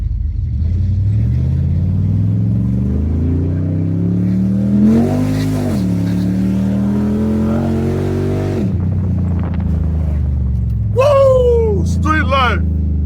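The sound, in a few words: 800 HP Chrysler 300 accelerating hard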